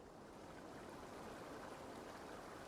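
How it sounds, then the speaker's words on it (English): A small waterfall fed by a spring in the video game Assassin's Creed Valhalla gives a steady, dense rush of splashing water, constant and fairly close, with no voices. "In fact, the spring is the source of this small fall of water right here."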